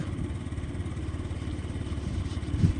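A small 2019 Yamaha Gear fuel-injected scooter engine runs close by with a steady, rapid putter and low chugging rhythm, rising slightly toward the end.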